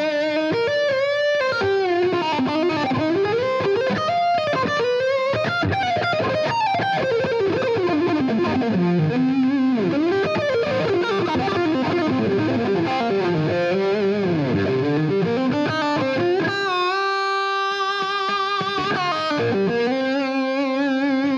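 A thick, distorted lead tone from the humbucker of a Guitar Valley Pro electric guitar plays fast, bending solo lines that run steadily and loudly across the whole stretch, with sustained held notes near the end and no speech.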